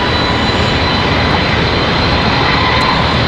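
An Airbus A319 at Charlotte Douglas airport getting under way, a loud, steady broadband jet engine roar, close and continuous with no speech.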